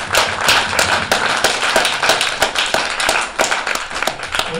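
Concert audience applauding the sound engineer: dense, lively clapping from a small crowd, close and fairly loud, with sharp individual claps standing out over a steady patter.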